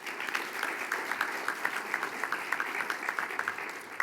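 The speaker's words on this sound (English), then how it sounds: "I think we should give them a round of applause." Round of applause from a dinner audience at a college Hall of Fame event, steady mid-level clapping from many hands with distinct individual claps popping through, fairly distant and sustained throughout.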